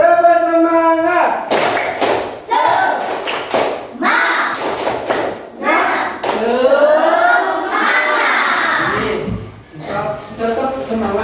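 A classroom group repeats the 'tepuk semangat' chant, with loud unison chanting and several bursts of rhythmic group hand claps between the chanted lines, close and lively.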